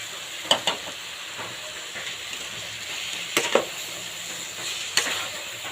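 Steady sizzle of boiled peas frying with chilli and turmeric in a kadai, with a few sharp stirring scrapes and clinks standing out over the constant hiss; no one speaks.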